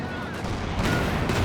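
A tank cannon duel in Company of Heroes 2, with a Panther firing on a Sherman; a dense rumble of battlefield blasts and booming shots rolls on continuously, loud and close throughout.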